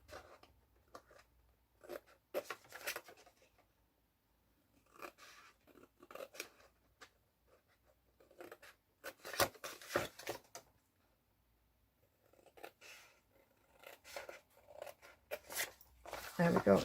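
A cardboard gift box being snipped through along its score lines, with bursts of crisp close scissor cuts between pauses and a person talking at times.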